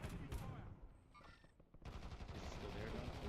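Video game gunfire in bursts, a dense rattle of shots with a brief lull and short tonal cue before another sustained volley, heard faintly behind the game mix.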